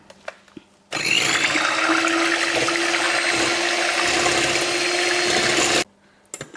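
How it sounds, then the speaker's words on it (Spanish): An electric mixer whips ganache cream filling in a bowl, starting abruptly, running as a steady close whirring with rubbing texture for about five seconds, then stopping. "Vamos a batir."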